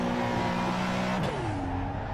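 A modified RUF CTR Yellowbird engine in the Assetto Corsa racing game drones steadily at high revs, then the pitch drops sharply as the car lifts off and the turbo-lagged engine note falls away, with constant road and tyre noise underneath.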